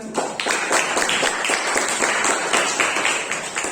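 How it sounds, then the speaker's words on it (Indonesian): Applause at the end of a lecture on food size reduction: a small audience claps steadily and fairly close throughout, with no talk over it. "Boleh tepuk tangan."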